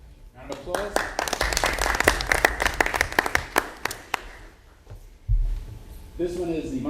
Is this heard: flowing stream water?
no